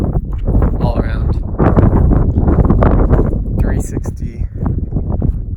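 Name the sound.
strong wind in Kyrgyzstan mountains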